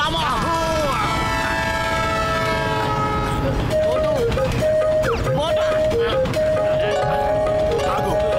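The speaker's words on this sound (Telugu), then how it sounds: "అది సమోసా కాదు, ట్రైను." A cartoon train sounds long horn blasts with a rumbling, rattling run underneath, loud and close, while cartoon voices talk over it.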